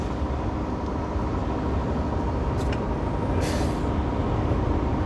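Semi-truck with its engine brake engaged, descending an easy downgrade on Interstate 70 through Spotted Wolf Canyon, Utah, in 11th gear of a 12-speed transmission at about 69 mph; a steady, loud, unbroken roar heard from inside the cab.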